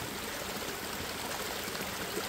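River water streams and trickles steadily in a continuous, soft wash of flowing sound, faint and unbroken with no other noises.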